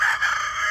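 A white rooster on a meat-breeding farm crows in one short, loud, steady call close by, with no talking.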